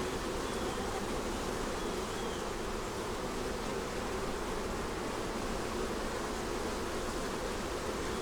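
Honey bees at an open hive make a dense, continuous buzzing drone, loud and close, with no breaks.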